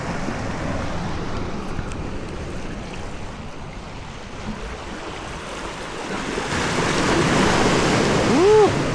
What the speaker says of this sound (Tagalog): Ang sarap ng tunog ng mga ano no, yung agos ng ano, yung tunog ng alon.